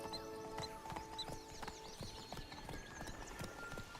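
Roach the horse galloping in The Witcher 3, with a quick rhythmic drum of hooves at moderate distance over a quiet ambient bed that holds faint birdsong and tonal music.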